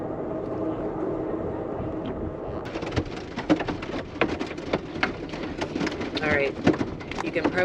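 Hail and a thunderstorm drum on a moving Amtrak train, a steady noisy roar of dense sharp pelting impacts that thickens partway through, with talk faintly underneath.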